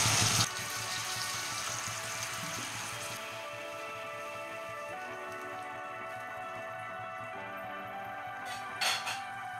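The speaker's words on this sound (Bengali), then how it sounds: "আমি এতে 1 কাপ জল অ্যাড করে দিলাম।" A cup of water is poured into a pan of green jackfruit kofta curry with shrimp, a faint continuous watery pour with soft clinks at the start and end, and no talking.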